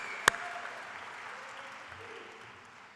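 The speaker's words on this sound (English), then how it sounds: "Let's give a round of applause" Applause for the student speakers at a technical school graduation ceremony comes as a faint, distant, diffuse patter after a single sharp knock near the start.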